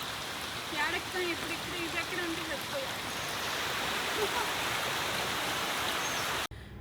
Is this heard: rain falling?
yes